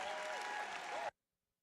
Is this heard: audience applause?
yes